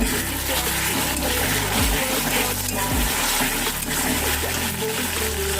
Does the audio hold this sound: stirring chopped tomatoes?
yes